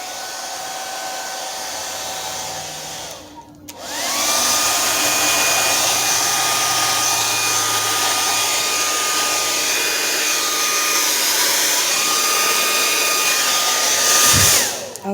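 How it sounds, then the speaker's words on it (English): Hair dryer blowing over poured acrylic paint, a steady loud whirring roar with a constant whine that switches on after a short pause and runs for about ten seconds before cutting off. "now my hairdryer will work"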